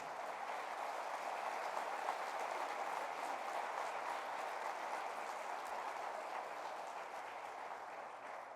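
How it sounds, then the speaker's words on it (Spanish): Congregation applause during a church sermon, a steady, even roar of many hands clapping that holds at one level throughout, slightly muffled and distant, with no voices. "Dale un aplauso al Señor."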